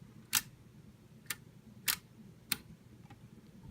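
A Kodak No. 1 camera shutter set to toggle clicks four or five times in a sparse, uneven rhythm, close and fairly faint, with no one talking.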